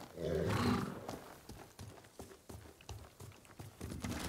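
In the game Ghost of Tsushima, a horse gallops in with a quick, steady run of soft hoofbeats after a brief low rumbling snort, all fairly quiet.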